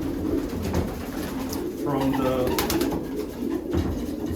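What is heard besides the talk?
pigeons cooing in a loft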